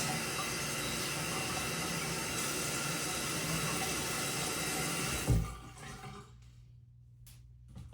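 A bathroom tap runs in a steady, close hiss as a cleaning cloth is wetted, then shuts off abruptly, leaving a few faint drips and handling noises.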